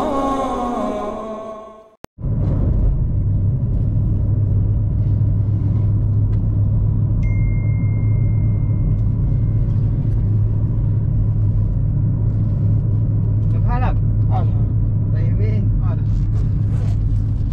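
A car cabin on the drive toward Masjidil Haram, filled with a steady low road rumble and engine hum after a brief silence, while people talk over it.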